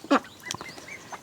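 Ducks in a backyard garden, one loud close quack followed by a few softer calls and rustling in a short burst.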